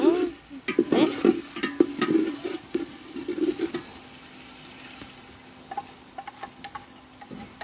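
Egg bhuna stir-fried in a pan, with a quick series of spatula scrapes and stirring clatter over a low sizzle, then quieter intermittent taps toward the end, and no voices.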